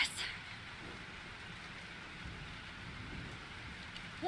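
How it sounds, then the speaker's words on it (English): Steady rain hisses through a thunderstorm in the Life is Strange video game, with faint low rumbles underneath and a brief louder burst at the start and end. "This storm is real."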